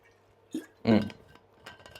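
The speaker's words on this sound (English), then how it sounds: "I'm gonna drink some water" A drinking glass clinks faintly at close range, with a brief knock then a brighter clink and small clatters as water is drunk, in an otherwise quiet room.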